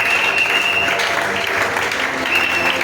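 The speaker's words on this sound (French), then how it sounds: "Acclamez quand même pour la parole du Seigneur." A church congregation at a Friday teaching service bursts into loud, dense applause, steady clapping from many hands filling the room throughout.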